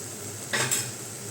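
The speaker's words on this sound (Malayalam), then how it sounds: "നന്നായിട്ടൊന്ന് മൂപ്പിച്ചെടുക്കാം" Rasam powder roasting and being stirred in a pan gives a brief, faint scrape and sizzle, two quick strokes of a spoon in a quiet kitchen.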